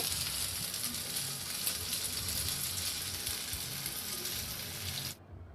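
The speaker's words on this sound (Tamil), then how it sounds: "எண்ணெய் காஞ்ச அப்புறம் அந்த கட் பண்ணி வெச்சிருந்த பீசஸ் எல்லாம் போட்டு நல்லா டீப் ஃப்ரை பண்ணி எடுத்துக்கோங்க." Loud, steady crackling of cut idli pieces deep frying in hot oil for chilli idli, a dense continuous hiss that cuts off abruptly near the end.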